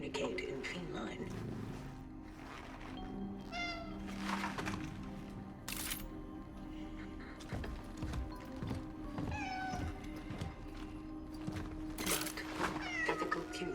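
A cat meows repeatedly in the cat room of the video game Cronos The New Dawn, several drawn-out, rising and falling cries spread across the stretch over a steady low background hum, with a voice talking in between.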